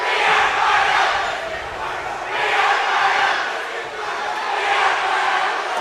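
Student sections at a girls varsity volleyball game against Dell Rapids cheer loudly, their chanting crowd noise rising and falling in repeated waves that fill the gym throughout.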